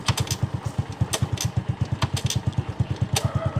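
A Suzuki Raider J Fi motorcycle engine runs close by with a steady, rapid pulsing throb while gears are shifted, the beat holding even with brief sharper clicks above it.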